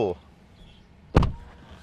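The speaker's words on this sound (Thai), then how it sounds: "ปิดประตู" A car door thumps shut once on a Tesla Model 3 Performance, a sharp, close, solid slam after a brief bit of speech and quiet cabin air.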